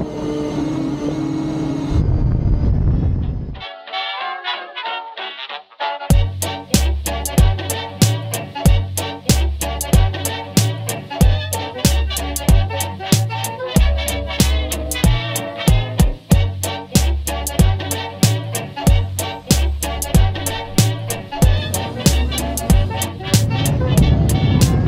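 A giant large-scale RC Caproni Italian multi-wing model airplane flies at half throttle, a buzzing motor drone with rapid rhythmic pulsing and clicks, loud and close for most of the stretch after a brief quiet gap near the start.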